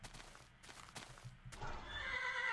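A horse in the Minecraft video game lets out a single drawn-out whinny that rises into a bright, wavering neigh toward the end, close and clear against a quiet background.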